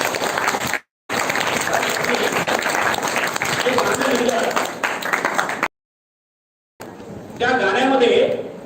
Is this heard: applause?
yes